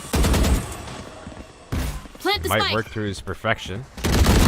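Rapid bursts of gunfire from a Valorant match ring out at the start and end, loud and close, while a caster talks excitedly over the action in between.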